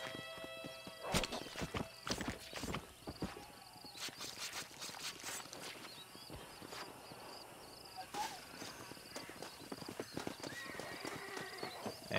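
Hooves clop in an uneven rhythm on hard ground, a horse walking close by in Red Dead Redemption, with an occasional whinny and faint background ambience.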